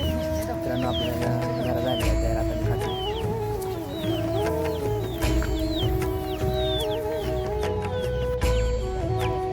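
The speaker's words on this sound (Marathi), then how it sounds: "आपण आता कोंबड्या सोडणार आहे. गावरान कोंबड्या आपल्याकडे." Free-range country hens on a village farm cluck and chatter repeatedly over a continuous low background, with scattered higher bird calls mixed in.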